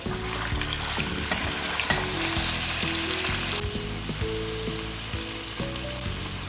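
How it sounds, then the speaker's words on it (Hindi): One kilogram of chicken frying in ghee in a pot for achari gosht, a steady close sizzle under faint background music with no talking. "चिकन को हम फ्राई कर लेंगे घी के अंदर।"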